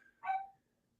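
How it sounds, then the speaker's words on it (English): A single short dog bark sounds faintly in the background of an otherwise quiet room. "there's a dog in the background"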